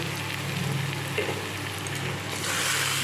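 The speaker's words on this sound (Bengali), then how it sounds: "ভালো করে মশলাটা কষাই" Ground spices including turmeric and cumin fry in a pan for a mutton curry, giving a loud, close, continuous sizzle with faint stirring scrapes and no talking.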